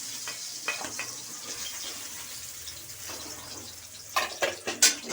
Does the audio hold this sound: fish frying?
yes